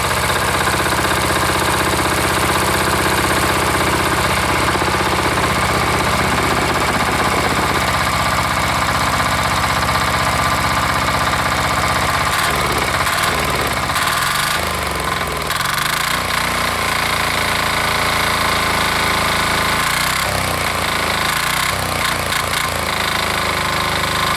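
Old single-cylinder diesel engine running after a cold start, a loud, steady knocking chug with heavy vibration and shifting mechanical rattles throughout, no talking.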